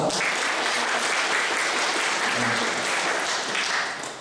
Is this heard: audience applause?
yes